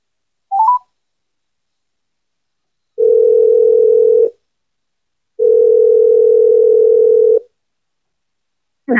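Two steady, loud telephone tones, each lasting one to two seconds with a short gap between them, signal a number that is not in service. A brief chirp comes before them and another begins at the very end.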